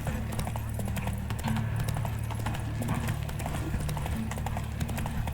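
Roach the horse gallops in The Witcher 3, with a quick, steady clip-clop of hooves running loud and continuous over a low droning game backdrop.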